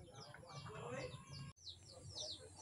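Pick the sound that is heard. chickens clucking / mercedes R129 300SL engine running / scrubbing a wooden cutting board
chickens clucking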